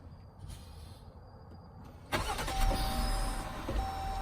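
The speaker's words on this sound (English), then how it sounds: "right when I start up it makes a weird ticking noise in the engine" A brand-new 2019 Jeep Grand Cherokee Limited starts up and settles into a loud, close engine run with a fast ticking noise, after a quiet stretch of faint handling sounds.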